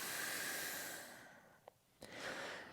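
A long, airy exhale during a yoga practice, soft and steady at first, then tapering into quiet before a short sniff and a fresh breath in, close and alone without talk.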